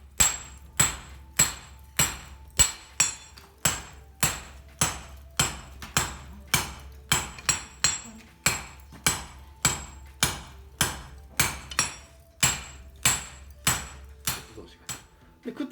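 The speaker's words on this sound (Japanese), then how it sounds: "その状態で出しちぎりで手早く叩くとこれくっつくんですよ" A Japanese swordsmith hammers red-hot steel heated to about 1350 degrees to forge-weld it, about thirty sharp, ringing metallic blows in a steady fast rhythm, close and clear over a low background hum.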